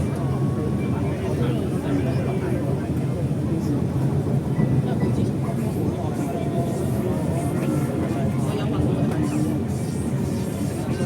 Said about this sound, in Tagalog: Ito yung next train.